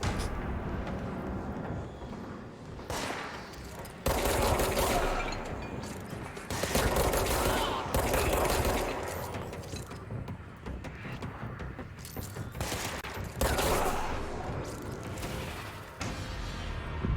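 Rapid bursts of gunfire from the video game Control, sharp repeated volleys coming in clusters with brief pauses, loud and up close alongside mechanical clatter and game effects.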